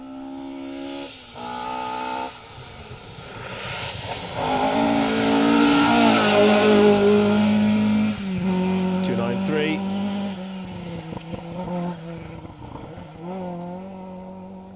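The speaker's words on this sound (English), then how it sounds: "There is the Mitsubishi Galant VR4 that comes through, one of the 4-wheel drive historic cars." A Mitsubishi Galant VR4 four-wheel-drive historic rally car comes through a stage, its engine rising loud and near as it passes, then fading, with commentators talking over it throughout.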